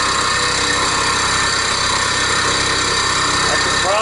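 A milling machine cuts metal with a single-flute indexable end mill at slow feed, giving a steady, loud mechanical whine and rumble with a dense high-pitched tone that runs unbroken throughout.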